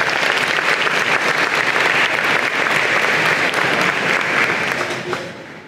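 A convocation audience at a College of Engineering and Computer Science ceremony bursts into loud, steady applause that holds for several seconds before beginning to taper off at the end.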